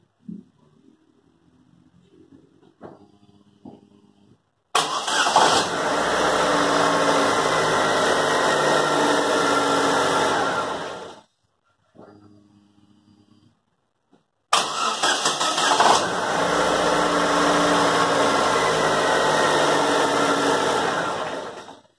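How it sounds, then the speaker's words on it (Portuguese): Chevrolet Celta engine running after alternator belt replacement: two steady stretches of loud, even idling close to the engine, separated by a brief quiet gap, with some faint handling noise before the first run. "Agora, escuta aí agora o barulhinho do motor agora."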